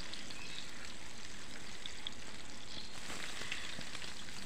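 Halved boiled eggs fry lightly in oil in a pan for egg korma, giving a continuous soft, even sizzle at close range throughout.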